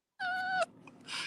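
A cat gives one clear, close meow of about half a second, then a softer trailing sound follows nearby, with no talk over it.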